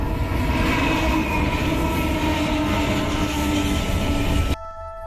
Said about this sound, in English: Although this is a freighter train, the locals use it to travel through the vast desert